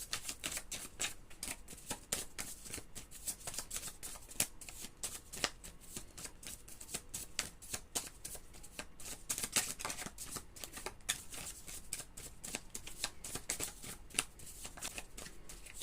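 Tarot cards being shuffled continuously to draw one, a dense run of rapid riffling flicks and slaps that stays steady and close throughout, with no talking over it.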